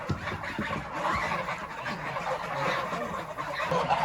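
Geese on a Tatar village farm, a flock of about fifty-four birds, keep up a continuous clamor of overlapping honks and cackles at moderate distance, loud and unbroken.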